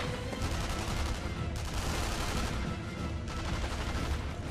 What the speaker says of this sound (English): Who is shooting at me, first of all?